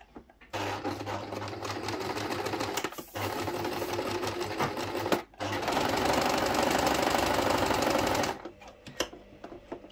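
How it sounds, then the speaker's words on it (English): Sewing machine stitching the edges of a small 1/16-scale sand bag, running in steady rapid runs of needle clatter with brief stops between, close and fairly loud. "what you want to do is sew around three sides but leave one edge open"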